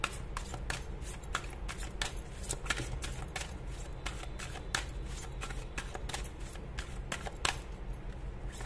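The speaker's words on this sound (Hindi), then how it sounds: "एक कार्ड निकालते हैं, कमिंग संडे।" Fortune-telling cards are shuffled and drawn in a quiet room, giving a soft, continuous run of quick papery flicks and snaps at an even pace, heard up close with no talking.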